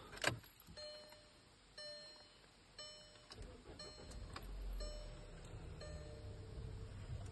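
A 2014 Volkswagen Tiguan 4Motion starts up: a few quiet clicks and dashboard chimes come first, then the engine cranks and settles into a low, steady idle rumble.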